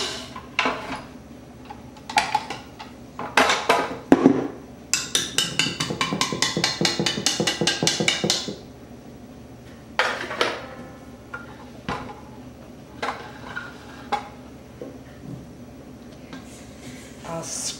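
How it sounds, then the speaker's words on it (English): A spatula scrapes the sides and bottom of a mixing bowl in repeated close, rapid scratchy strokes, with clinks and taps around them and some talking. "I'll scrape the sides and the bottom"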